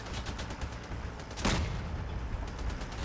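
Shrapnel weapon firing in a video game, a rapid crackling burst of shots with one sharper blast in the middle, set over steady background noise and fairly faint.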